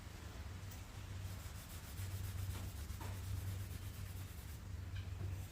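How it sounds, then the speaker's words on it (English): A rag rubs by hand over the old paint of a 1968 Datsun 1000 barn find, making a soft, continuous scrubbing swish in repeated strokes, faint and close, with no talk. "okay, so black is coming off, so it means that it is polishing it"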